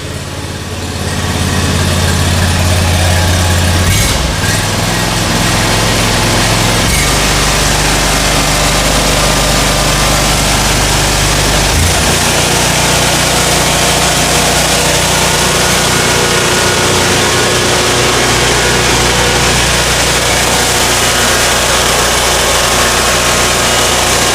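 The engine of a SCAG Cheetah II mower runs after a high-pressure fuel pump replacement, a loud, steady, close drone that holds continuously with a slight shift in tone early on.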